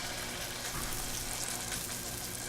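Pancakes fry in hot butter in a skillet on a stovetop, giving a steady, close, even sizzle that runs throughout with no talking.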